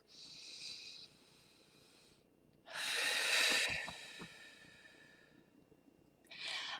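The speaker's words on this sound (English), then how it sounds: "I would love to invite you all into taking a deep breath" Deep breaths drawn in and let out through the nose and mouth, close and airy: a short inhale, a longer loud whooshing breath in the middle, and another beginning at the end.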